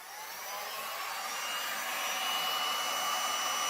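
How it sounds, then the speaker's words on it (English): A heat gun blows a steady broad airy rush over resin waves, growing slightly louder as it continues with no pauses. "So now watch the motion of the heat gun."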